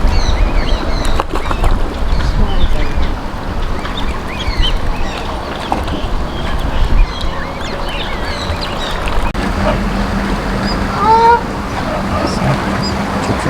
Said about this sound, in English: Egyptian geese